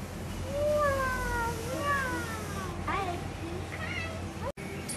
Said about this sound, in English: this cat is roaming with us